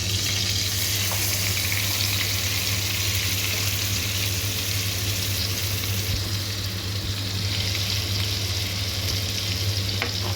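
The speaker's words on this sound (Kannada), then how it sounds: "ಇದು ಈರುಳ್ಳಿ ಹಸಿ ವಾಸನೆ ಹೋಗೋವರೆಗೂ ಸ್ವಲ್ಪ ಹುರಿಬೇಕು" Onion paste fries in hot oil with cloves and cardamom for paneer tikka masala, giving a steady, dense sizzle that holds evenly throughout with no talking.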